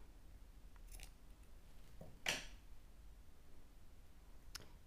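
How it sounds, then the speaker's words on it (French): Scissors snip through knitting yarn with one quick, crisp cut, close and fairly loud against a quiet room, followed a couple of seconds later by a faint click. "on va couper le fil"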